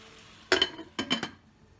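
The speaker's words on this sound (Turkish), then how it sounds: "Gördüğünüz gibi tavuklarım suyunu bırakıyor yavaş yavaş. Şöyle bir karıştırıyorum." Two brief bursts of scraping and clinking as diced chicken is stirred in a pot, with a faint sizzle between them.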